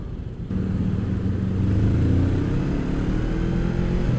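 Engine of a Honda CBR sport bike riding in traffic in low gear, a steady loud mid-pitched drone that swells slightly after a brief opening, holding close and continuous.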